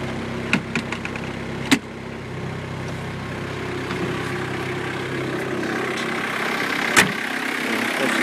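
A cold diesel engine idles steadily with a low, even rumble and a faint rattling clatter, broken by a few sharp clicks and knocks close by.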